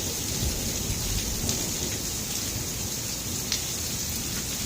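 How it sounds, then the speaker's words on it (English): Heavy rain pours steadily during a Salt Lake area thunderstorm in August, a dense continuous hiss with low rumbles of thunder rolling underneath and a few sharp drips or cracks near a rain gutter. "I don't think I've seen it rain any harder in Salt Lake in my lifetime."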